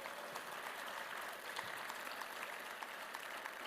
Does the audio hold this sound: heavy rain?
no